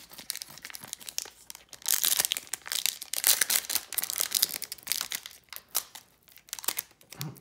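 Foil trading card pack wrappers from 2013 Prizm football being crinkled and torn open up close, loud bursts of crackling and ripping plastic with short pauses, no talking.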